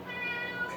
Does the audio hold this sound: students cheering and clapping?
no